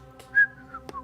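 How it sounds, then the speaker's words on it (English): A person whistles stealthily in a dark setting, a few short wavering tonal phrases rising and falling, fairly close and alone with no talk. "Stealthily whistling"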